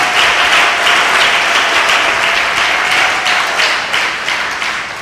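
A church congregation claps loudly during a sermon, a thick continuous burst of many hands that holds steady and then slowly fades toward the end.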